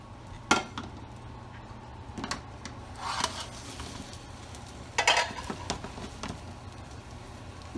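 A Spanish tortilla slid back into a skillet, with clattering pan and utensil knocks and scraping over a low sizzle, close by and no talk.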